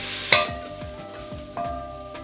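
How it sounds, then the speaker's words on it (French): Red onions being stirred in a pan with smoked paprika, cumin and garlic oil, a sharp scrape opening a series of regular spatula strokes over a low sizzle, with a second firm scrape partway through. "Et là, on mélange pour qu'il s'imprègne des saveurs."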